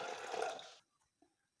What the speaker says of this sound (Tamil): இப்போ நம்ம பிழிஞ்செடுத்த ஜூஸ்லேயே 1/2 கப் அளவுக்கு தண்ணி சேர்த்துக்கோங்க